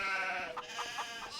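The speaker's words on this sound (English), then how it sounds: "Look at the sheeps over here." Sheep crowded into a pen in a farming video game bleat several times in quick succession, the short calls fairly faint against a quiet background.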